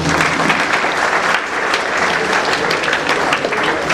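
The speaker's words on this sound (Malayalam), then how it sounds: "എല്ലാവർക്കും ഒന്ന് കൈയടിക്കാം." Audience at a diocesan silver jubilee celebration in Kunnamkulam applauding after a prize distribution; dense, steady clapping from a large crowd, loud and continuous throughout with no talk on top.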